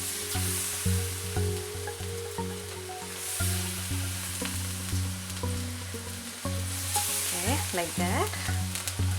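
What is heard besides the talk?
banana pieces frying in hot oil for Kerala banana fritters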